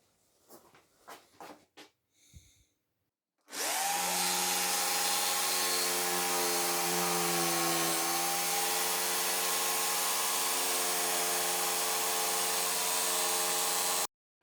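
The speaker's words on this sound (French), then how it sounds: "je découpe du contreplaqué pour m'en servir de gabarit" A power tool cuts through plywood to make a template for a router table. After a few brief knocks, the cutting starts loud and steady at about 3.5 s and runs without a break for some ten seconds, then stops.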